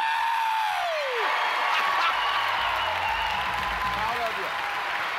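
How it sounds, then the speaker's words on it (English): A live audience bursts into cheering, whoops and screams after a debt-free countdown, loud and continuous with applause and a few voices shouting over the crowd noise. "Let's hear a debt-free scream."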